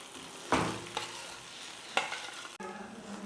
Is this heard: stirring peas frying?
yes